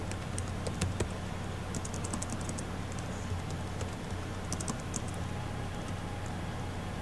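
Keys clatter softly on a computer keyboard in irregular bursts of taps, typing a single word in a word processor over a steady low hum.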